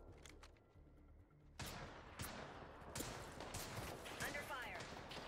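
Gunfire in the Apex Legends video game cracks out in a rapid burst of sharp shots, followed by heavier loud blasts and noisy combat, with faint game voice callouts mixed in.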